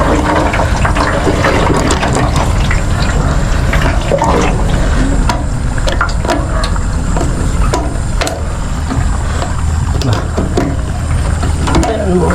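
Water sloshing and churning inside a sprayer tank being shaken before spraying a rice paddy ahead of planting, a steady loud wash of liquid with faint mechanical rattles throughout.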